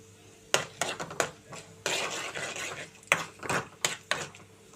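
Chana dal, urad dal, cumin, mustard seeds, fenugreek seeds and two dried red chillies frying in a pan, with a spoon stirring and scraping in close, sharp clinks and a soft sizzle between them.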